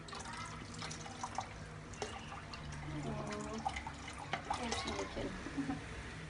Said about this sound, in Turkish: Biraz da kola dökeceğiz.